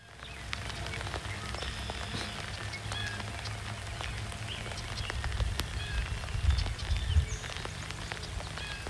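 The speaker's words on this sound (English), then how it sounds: "Rain moved in and paused the count from around 9:45 till 11." Steady rain falls during a spring hawk watch at Derby Hill, a continuous even hiss with scattered faint drips and distant background noise, no voices.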